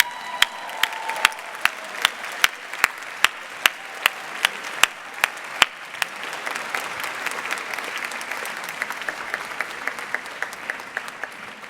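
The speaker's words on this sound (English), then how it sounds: "please turn around to your families and give them a big round of applause" A large commencement audience applauds graduates' families, steady crowd clapping with a few sharp, loud claps standing out at the start, thickening into dense, even applause that carries on throughout.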